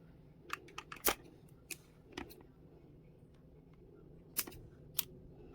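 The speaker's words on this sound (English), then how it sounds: "What you do, you trim your wick" Scissors snip the wicks of small Easter egg votive candles set in an egg carton, a series of sharp, quiet, close clicks spaced irregularly with soft handling between them.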